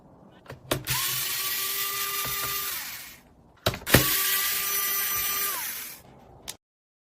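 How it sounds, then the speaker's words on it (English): A screwdriver backs out screws from the rear casing of a car jump starter, two separate bursts of close, dry mechanical whirring each lasting about two seconds, with small clicks between them. "this screwdriver matches the jump starter perfectly for those 4 screws"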